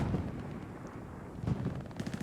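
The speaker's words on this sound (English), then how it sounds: "A little explosion behind." An explosion booms somewhere behind the player in the World War II shooter Hell Let Loose, a muffled distant blast among scattered gunfire and further rumbling detonations, with no talking.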